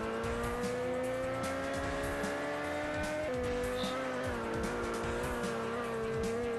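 A motorbike in the Real Bike Racing video game gives a continuous, steady engine drone with a slight pitch shift midway, close and even in level, with no talking.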